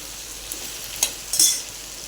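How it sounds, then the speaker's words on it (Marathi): Okra cooking with masala in a pan is stirred, giving a steady frying sizzle broken by a few sharp scrapes of the spoon against the pan, close and clear with no voices. "हे पहा असं मध्ये मध्ये हलवून घ्या"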